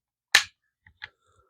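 A Umarex DSX-45 air pistol fires a single sharp, close crack, followed by a couple of faint mechanical clicks in otherwise quiet surroundings.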